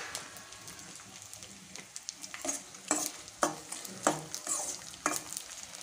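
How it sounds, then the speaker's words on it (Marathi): Pieces of edible gum (dink) fry in hot ghee for a homemade winter protein powder, giving a steady close crackling sizzle with small popping bursts and stirring, no talk. "तरी बघा, छान असं तळून होत आहे आपलं डिंक।"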